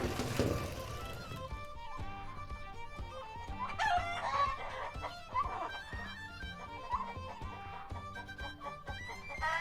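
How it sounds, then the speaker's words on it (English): Chickens and a rooster inside a farm coop cluck and crow, with a loud crow early on and busy clucking and calls that go on throughout, close by and with no talking. "Let's go see the chicken and the rooster inside."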